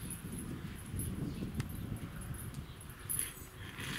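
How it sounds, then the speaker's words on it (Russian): Dogs whimpering outdoors in 32-degree summer heat, soft intermittent whines over a steady low rumble of background noise, fairly faint and with no talk. "Путешественники, собачки у нас."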